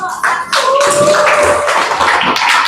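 A class of students applauds group 1 in a classroom, a dense, steady burst of clapping from many hands that holds loud for nearly three seconds.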